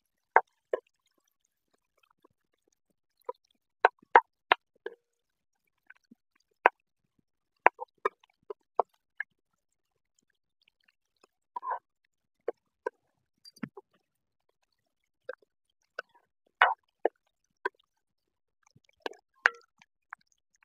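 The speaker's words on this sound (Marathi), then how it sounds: "आता तेल गरम झालंय, कांदा लसूण टाकून घेते त्याच्यात." Chopped onion and garlic drop into hot oil for a dry fresh pigeon pea dish, giving sparse, scattered pops and soft crackles separated by near-silent gaps, fairly close and quiet.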